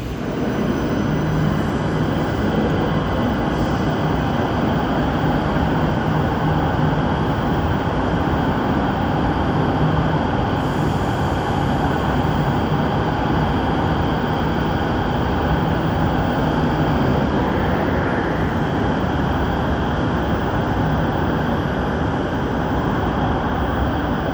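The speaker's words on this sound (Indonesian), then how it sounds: "di lantai 3 ini juga dapat melihat keberangkatan dan kedatangan kereta LRT Jabodebek di stasiun Cawang" An LRT Jabodebek light-rail train at Cawang station in Jakarta makes a steady, loud rumble and rolling hiss that continue for the whole stretch without any voices.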